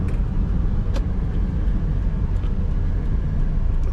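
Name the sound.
car engine revving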